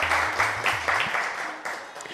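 An audience applauding at an Eid special television show, a scattered patter of clapping under ongoing background sound, moderately loud, with a voice speaking briefly at the start.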